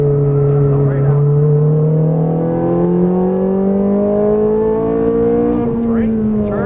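A Ferrari F430 Scuderia accelerates out of a corner on track, its engine note rising steadily in pitch inside the cabin, loud and close, with a voice speaking over it.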